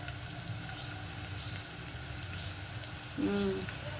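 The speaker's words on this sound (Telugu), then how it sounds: "అల్లం వెల్లుల్లి పేస్ట్ అయితే వేసుకుంటాను ఇందులో." Ginger garlic paste frying in oil for a tomato fenugreek curry, a soft, steady crackling sizzle heard up close, with a brief clink of utensils near the end and no talk.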